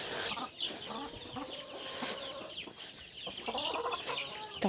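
Chicks and hens in an outdoor run call out while being fed, a busy mix of faint overlapping clucks, squawks and thin cheeps close by.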